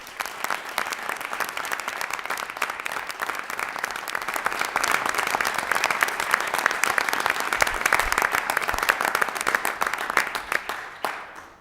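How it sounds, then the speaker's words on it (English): A room at a city council meeting breaks into sustained applause for a state championship girls volleyball team, dense clapping from many hands that swells, holds steady for several seconds and tapers off at the end. "Let's give them a round of applause."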